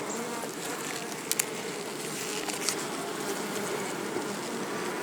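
Many honey bees buzz in a dense, continuous drone, close and fairly loud, with a few brief taps and clicks over the swarm.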